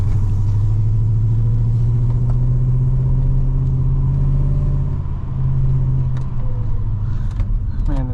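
The engine of an HSV VS Manta car rumbles low and loud from close by inside the cabin, holding steady before pulling up under acceleration, with a brief dip and a little background chatter.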